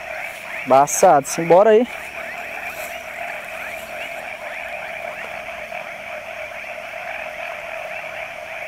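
Frogs croaking at night beside water during night fishing, forming a steady pulsing chorus throughout, with someone speaking briefly near the start.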